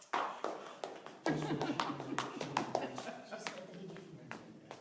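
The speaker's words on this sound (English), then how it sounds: "We clap." A small group of people claps after a talk on composting, scattered uneven claps up close with voices chattering over them, fading toward the end.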